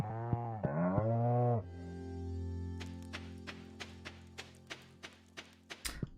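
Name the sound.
cows mooing on a farm in Stardew Valley video game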